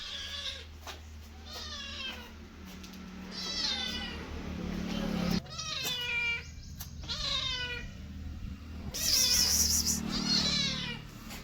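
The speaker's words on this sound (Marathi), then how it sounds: "इथं एक मांजर आहे, त्याला खायला घालायचं होतं" A cat waiting to be fed fresh farm milk meows over and over, close and clear, each cry a rising-then-falling wail, with a steady low hum and a brief high whistle-like tone behind.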